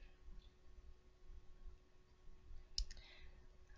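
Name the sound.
mouse click on a font in a web browser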